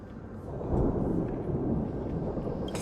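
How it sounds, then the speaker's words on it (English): Low rumbling thunder in the video game Honkai Star Rail, a steady rolling roar that swells and holds for a few seconds with a rain-like hiss, no talking over it. "It just sounded like thunder."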